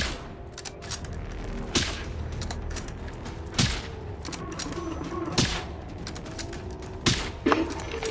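Steady, rhythmic gunfire in the video game Generation Zero: loud, sharp single shots spaced roughly a second or two apart over a low rumbling background, close and dominant.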